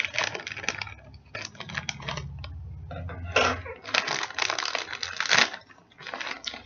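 A plastic bag crinkles and rustles up close as chicken wings are put into it, in irregular bursts of crackling with brief pauses between handling movements.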